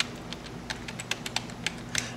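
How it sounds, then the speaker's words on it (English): Slow two-finger typing on a computer keyboard, uneven separate key clicks over steady background hum, close and moderately loud with no voice. "I'm going to painstakingly, with my 2-finger typing skills, I'm just going to type in an unordered list."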